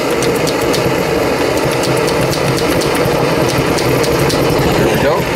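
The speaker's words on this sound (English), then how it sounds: "I'm going to come over here and give this thing a few more pumps." Someone hand-pumps the fuel tank pump of an Optimus camping stove to build pressure. A quick, regular series of mechanical strokes clicks and rasps close to the microphone over a continuous rushing hiss.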